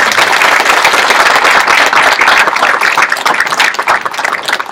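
A large audience gives one more round of applause to business inductees at a university honors induction ceremony, loud sustained clapping from many people that begins to thin out toward the end.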